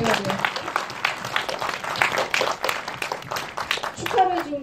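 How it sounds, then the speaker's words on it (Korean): An audience at a film screening Q&A applauds for two guests, a spread of clapping under a host's voice, swelling near the end. "두 분께 좀 박수 좀 부탁드릴게요"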